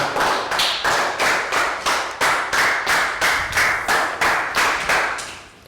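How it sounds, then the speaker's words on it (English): A classroom round of applause, heard as a steady run of about a dozen sharp, evenly spaced claps in unison, close and loud with no talking. "Round of applause for Net."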